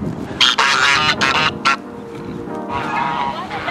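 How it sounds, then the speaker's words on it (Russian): Loud, close honks and quacks from a group of hungry geese and ducks in a park burst out in quick clusters, then settle into softer, scattered calls. "Эти утки преследуют нас. Вот уже сюда пришли гуси."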